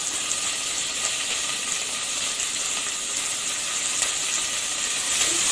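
Chopped onions and green chillies sizzle in hot oil in a pan, a steady, loud hissing fry that continues evenly with no talk.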